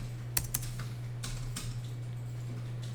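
A computer keyboard is tapped with a few sparse keystrokes, including presses of the Tab key, as quiet clicks over a low steady hum.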